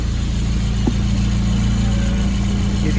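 A Honda engine fitted in an MR2 chassis under a VW Bug body runs steadily and loudly up close, a continuous low droning hum at a light, even throttle without rising revs.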